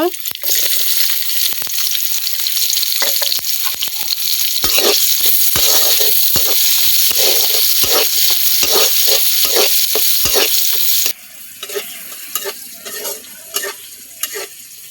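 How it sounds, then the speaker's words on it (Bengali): Loud, steady sizzling of onion, garlic and green chilli frying in hot oil, with repeated scraping stirs; the sizzle drops sharply near the end, leaving quieter crackles. "আর এই তেলে আমি পেঁয়াজ রসুন কাঁচামরিচ দিয়ে দিব।"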